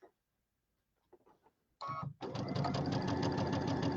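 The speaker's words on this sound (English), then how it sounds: "Let's sew that one together." Sewing machine stitching quilt patches together, a few faint clicks and a short burst, then a loud, rapid, even needle whir running steadily up close.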